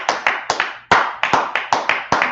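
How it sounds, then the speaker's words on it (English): Several hands clap in short sharp bursts with uneven gaps, loud and close, at a class led by a priest officer. "Clap it up for the class."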